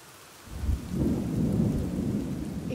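Steady rain pours down on a bivouac shelter on a night in the Val d'Aran mountains, a dense continuous roar that swells after a quiet first half-second and holds close and loud.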